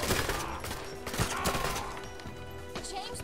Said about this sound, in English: I swear I'm shooting right at them.